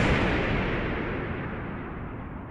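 A single deep explosion boom standing for the Big Bang, loud at the start and rumbling away as it decays over a couple of seconds.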